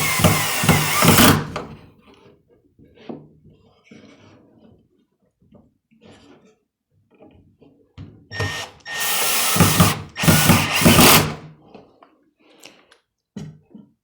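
A drill drives 1 1/4 inch pocket hole screws into wood to fix a board to a stud or joist, with two loud bursts of whirring, one at the start and a longer double burst later, separated by quieter handling noises.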